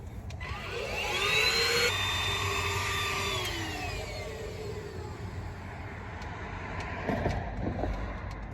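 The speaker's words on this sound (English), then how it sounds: "gonna start vacuuming sitting in the car" A vacuum cleaner runs inside a car interior, whining up in pitch as it spins up, then droning steadily before winding down, close by.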